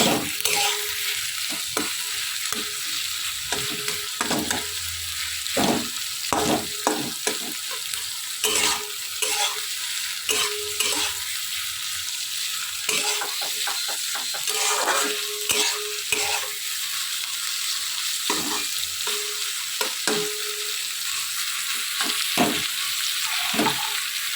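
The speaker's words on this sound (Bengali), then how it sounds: "পেঁয়াজগুলো একটু ভেঙে ভেঙে দেবেন খুন্তি দিয়ে। বেশি লাল করতে হবে না, হালকা হালকা একটু ভাজবো।" Onions sizzle steadily in a hot pan for hakka noodles, with repeated clanking scrapes of a spatula stirring and breaking them up, close and alone without any talk.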